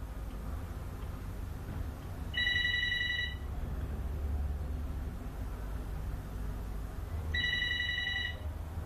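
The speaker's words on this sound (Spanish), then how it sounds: "Vamos a sonar el teléfono otra vez a ver qué hace de cerca." Two bursts of electronic telephone ringing, each about a second long and several seconds apart, over a steady background hum.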